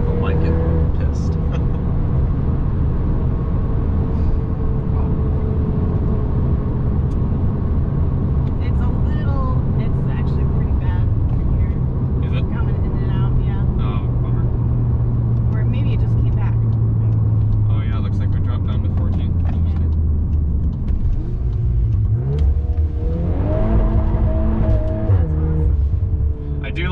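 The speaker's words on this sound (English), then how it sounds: "Like how it bounces off the rev limiter." A 2022 Volkswagen Golf R engine revs hard and bounces off its rev limiter, a loud, steady engine drone with rising and falling pitch sweeps under continuous conversation inside the car.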